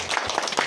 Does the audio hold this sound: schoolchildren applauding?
yes